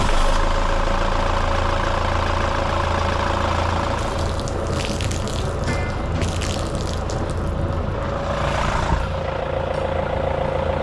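A boat's diesel engine running at a steady idle right after starting, a loud continuous low rumble with a mechanical clatter layered on top, close by and unbroken throughout.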